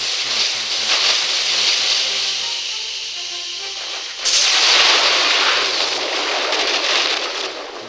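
Artillery fire in a strategy video game booms in two heavy, hissing blasts, the second louder and sharper, each followed by a long rumbling, crackling decay with no talking.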